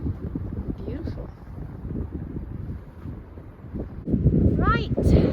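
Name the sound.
strong wind outdoors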